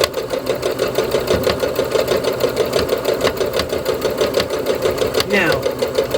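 A sewing machine stitches fabric in a steady, loud, continuous run at close range, with a brief shift in pitch near the end.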